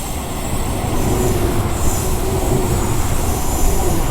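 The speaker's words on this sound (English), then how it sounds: "And these trains can go quite fast for third rail." A third-rail LIRR electric train in the Train Sim World 2 game rumbles along at speed, a loud steady roar of wheels and track noise with a faint high squeal and no talking.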